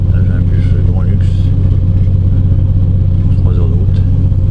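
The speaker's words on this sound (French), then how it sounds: "Là j'ai un bus grand luxe." A luxury coach bus on the road gives a loud, steady low engine drone and rumble, with faint voices and whistle-like sounds above it.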